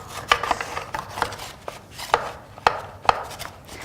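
Frozen bananas knocked loose with a spatula inside a blender jar, giving a series of sharp scraping knocks and taps at irregular intervals, close and fairly loud, with no talking.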